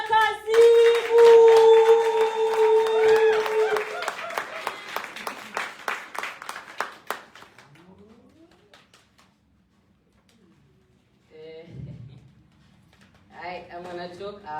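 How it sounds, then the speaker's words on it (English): Audience applause for a performer at a live slam event, a dense burst of clapping at first that thins into scattered claps and fades, with sustained tones over it early on and brief voices later. "round of applause for Nadia Kasimu."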